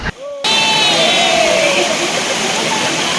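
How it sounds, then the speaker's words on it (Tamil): A hot spring waterfall near Krabi, Thailand pours in a steady, loud broadband rush after a brief quiet start, continuing without pause to the end. "தாய்லாந்தில் கிராபிக்கு பக்கத்தில் இருக்கக்கூடிய ஹாட் ஸ்ட்ரீம் அப்படிங்கிற இடத்துல தான் இந்த சூடான அருவி வருது"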